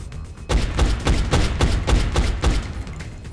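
Gunfire in the XCOM: Enemy Unknown video game, a quick rhythmic burst of about eight heavy, thumping shots in rapid succession, loud and close.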